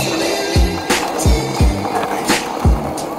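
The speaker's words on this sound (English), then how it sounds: "Now I remember why I promised myself I would never ride a skateboard again. So loud!" Skateboard wheels roll loudly over rough pavement with a constant gritty roar, punctuated by rhythmic clacks as they cross cracks in the ground.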